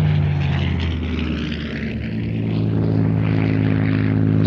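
A Supermarine Spitfire in Soviet red star markings drones steadily overhead at a public flying display, its loud propeller engine roar swelling slightly toward the end with no talk.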